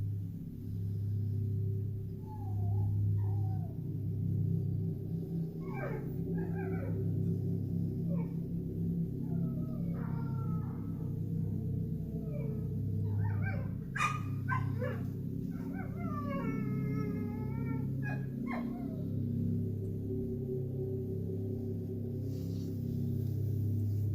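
A dog barks agitatedly at night in repeated bursts of yips and whimpering barks, heard mid-distance over a steady low hum, with a brief mix of sharper, louder barks partway through.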